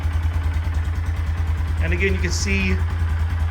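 A 2022 Grom 125 fitted with a Yoshimura RS9T exhaust idles steadily after a cold start, a low, fairly quiet engine thrum running throughout while someone talks over it.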